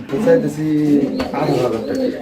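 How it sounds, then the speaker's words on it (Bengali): Soft, low coos of a female pigeon with someone talking over them close by, the cooing running steadily through the whole stretch. "এটা মাদি কবুতর"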